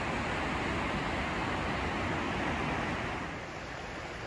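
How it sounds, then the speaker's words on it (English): Steel Falls waterfall in the Scottish Highlands, a broad steady rush of falling water heard from a distance, constant and even with no voices. "There is Steel Falls."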